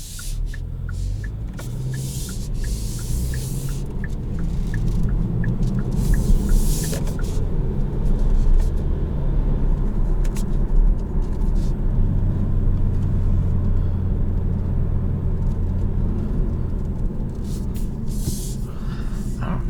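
A Kia Stinger GT-Line 2.0 engine hums steadily while driving at night, with low rumbling tones rising and settling as it accelerates, close and continuous with no talk.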